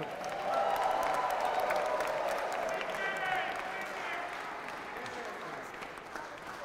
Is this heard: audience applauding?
yes